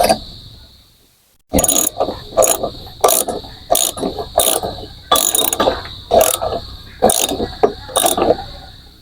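A fitting is tightened by hand to fix a water leak, giving a run of about ten sharp, regular ratcheting clicks at close range, each one a short, bright burst. The clicks begin after a brief quiet pause, with a steady high whine running beneath.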